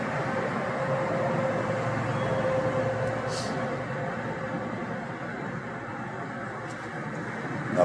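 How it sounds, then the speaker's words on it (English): Road noise fills a car interior while it is being driven, a loud, steady rumbling hiss that holds constant throughout with no talking. "Car's really noisy."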